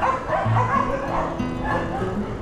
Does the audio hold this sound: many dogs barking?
yes